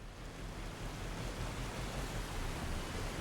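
A waterfall in the video game Mass Effect 2 rushes in a steady, even roar of broadband water noise that holds level throughout, with no voices.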